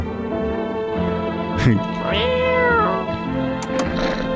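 A cat meows in a horror video game, several drawn-out mews rising and falling over a steady musical drone, with a person talking over them.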